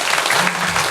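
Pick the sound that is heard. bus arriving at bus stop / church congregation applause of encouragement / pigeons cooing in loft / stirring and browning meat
church congregation applause of encouragement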